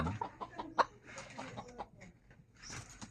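A bantam chicken, the offspring of a native hen and a bantam, clucks in short, sharp, close bursts, with one louder squawk among them and some quieter rustling between calls.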